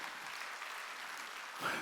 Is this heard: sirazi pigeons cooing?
no